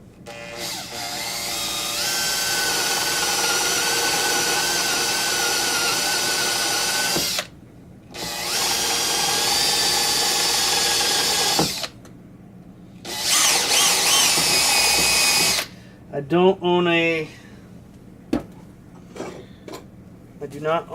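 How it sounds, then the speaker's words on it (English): A handheld power drill bores into a wood template on an old, shimmed table, running in three long loud whining bursts with short pauses between, then trailing off into short rattling bits and some movement. "so I have to use my hand drill for now"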